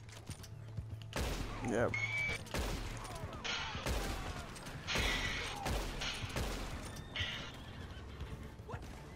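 Gunfire in a Red Dead Online highway robbery, with sharp, loud reports scattered through the clip amid horse whinnies and hoofbeats, while someone speaks briefly.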